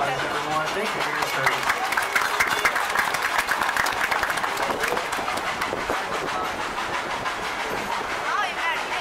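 Passengers aboard the Dollywood Express, a steam train pulled by Engine 70, break into steady applause over the rolling clatter of the railroad cars, with a voice speaking through it.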